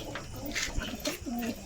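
Close, soft cooing from a pigeon comes in a couple of low, burbling phrases over light background noise, with a few small clicks between them.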